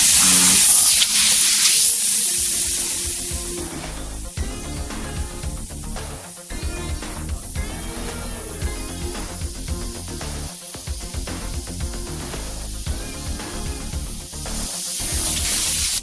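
A steady airy hiss of spraying in short on-off bursts, repeated many times at an even rhythm, close and fairly loud.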